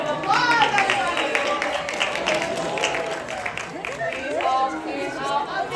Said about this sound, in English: Give yourselves a huge round of applause, everybody.